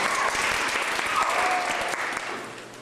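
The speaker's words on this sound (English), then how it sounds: "Please give Alessia Grecky a round of applause." Sustained applause from a crowd, dense and steady clapping that fades slightly toward the end.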